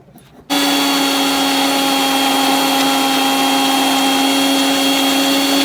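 After a brief quiet moment, a blender blending raw mango with cold water starts abruptly and runs at a constant high whine, loud and close, with no break until the end.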